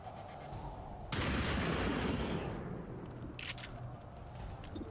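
A loud boom or shot rings out in XCOM 2: War of the Chosen during a zombie fight, with a broad rumbling tail that slowly fades, followed by a short sharper burst and quieter ambience.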